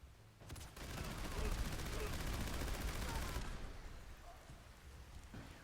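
An explosive minigun in Fallout 4 fires one sustained burst of rapid, rattling shots blending into a dense roar, then cuts off, leaving quieter room noise.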